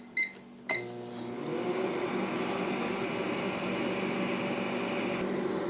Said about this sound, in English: it helps if you put it back in the microwave for a little bit longer